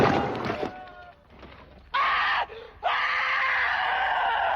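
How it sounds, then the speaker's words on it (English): Screams from the 1992 horror comedy Dead Alive: a shrill cry that fades into whimpering, then two loud piercing shrieks separated by a brief gap, the second held long. "we get one of the funniest screams I have ever heard in my entire life"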